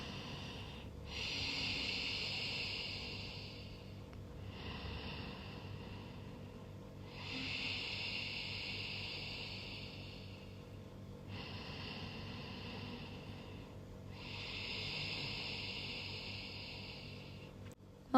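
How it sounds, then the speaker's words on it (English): Slow, deep breaths with a soft oceanic hiss, four long exhales and inhales in a steady rhythm, close and quiet. "with ujjayi breathing, you're really going for the sound of the ocean."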